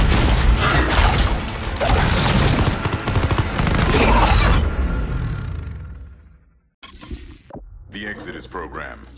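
Gunfire and mechanical clatter from Call of Duty Ghosts Extinction Exodus fill a dense burst of rapid shots and metallic ratcheting, fading out before short sharp effects return near the end.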